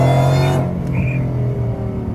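VMP supercharged Ford Mustang GT at hard acceleration, a loud close engine roar that cuts off abruptly after half a second, leaving a lower rumbling idle and road noise.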